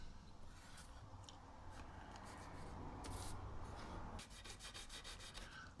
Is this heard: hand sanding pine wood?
yes